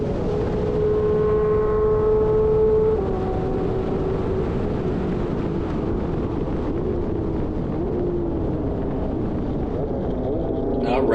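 A stock Porsche 992 GT3 on track gives a loud, sustained engine and exhaust drone with a high tone that rises and falls as it passes, steady throughout with no talking.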